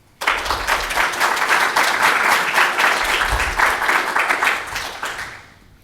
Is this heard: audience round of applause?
yes